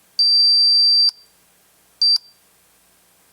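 An alarm on a Jameco motion detector kit gives a loud, piercing electronic beep, first one long tone of about a second, then a short one, with a further tone starting at the very end, set against silence.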